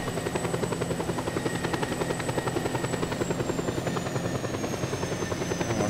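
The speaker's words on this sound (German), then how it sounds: "das Flugzeug fliegt sich wirklich gut" Aircraft flying in the video game Just Cause 2, a steady droning engine with a rapid pulsing beat and a high whine, loud and continuous with no talk over it.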